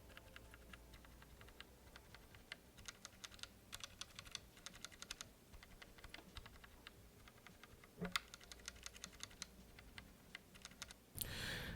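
Lubed switches on an Anne Pro 2 keyboard clack in quick irregular bursts of typing, with close, crisp clicks and brief pauses between runs, and no other sound.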